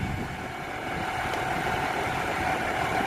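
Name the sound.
tractor engine idling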